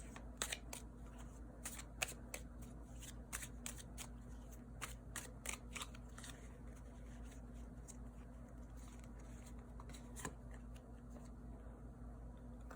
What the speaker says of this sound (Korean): 카드 한번 뽑아보도록 할게요